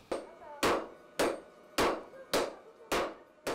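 Steel struck by a hammer while sharpening a bolo blade (itak): six sharp, ringing blows at an even, unhurried pace, each decaying quickly, close and alone.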